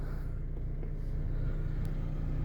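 A 2008 Opel Astra 1.4 petrol engine idles on LPG gas, a steady low rumble close by, even and unbroken, with no voices.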